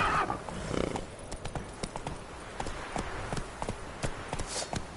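A horse in a video game whinnies loudly at the start, then hooves clip-clop in a quick, steady galloping rhythm that carries on to the end, close and clear with no talking.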